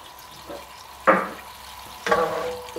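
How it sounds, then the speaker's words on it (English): Lemon juice hitting a hot pan of sauce, bursting into two sharp, close sizzling hisses about a second apart over a quiet background, with no voices. "we'll just boil that just until it reduces by about half"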